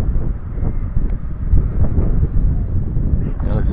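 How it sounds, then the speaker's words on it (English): Wind gusting outdoors while a Holy Stone HS150 Bolt Bee drone flies, giving loud, low, rumbling buffets against the microphone throughout with uneven surges. "Got a bit of wind out"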